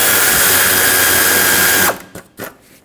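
Power tool driving hood hinge bolts on a 2011-2016 Ford F-350, a loud close whirring ratchet burst that runs for about two seconds and then stops, followed by a few faint clicks.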